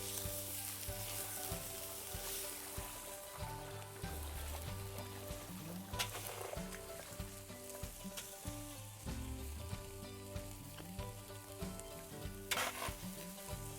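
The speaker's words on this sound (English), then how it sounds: "We have some potatoes, bacon, onions, and garlic going in a little bit of extra healthy bacon grease." Fish sizzles and fries in bacon grease with potatoes, bacon, onions and garlic, a steady close crackle with occasional stirring scrapes throughout, no voices.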